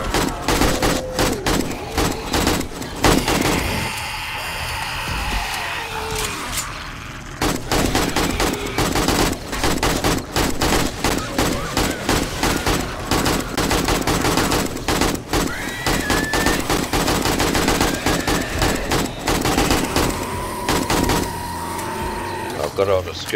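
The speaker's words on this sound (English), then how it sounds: "automatic fire." Relentless automatic weapon fire from the zombie survival game 7 Days to Die during a horde night, loud and near, rattling in fast continuous bursts for over twenty seconds with only one brief break.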